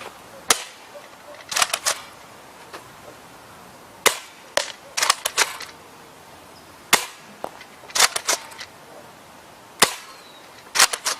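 MP40 submachine gun firing at a target 75 feet away: sharp, loud cracks in short bursts of two to four shots, separated by pauses, with no talking.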